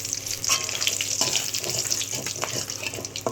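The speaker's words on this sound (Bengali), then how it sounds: "কড়াইয়ের মধ্যে দিয়ে দেবো ফোড়ন তার জন্য দিলাম গোটা গরম মশলা খানিকটা জিরে ছিল এলাচ লবঙ্গ তেজপাতা" Whole cumin, cardamom, cloves and bay leaf fry in hot oil in a wok as the tempering for paneer posto, giving a steady, close sizzle with a few sharper crackles and no talking.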